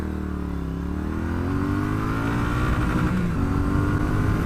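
A close, loud Triumph Street Twin motorcycle accelerates hard from a standstill toward sixty, its engine note climbing steadily through the revs, with no voices over it.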